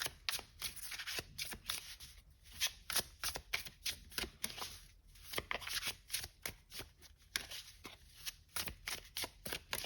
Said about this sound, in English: let me shuffle this one a bit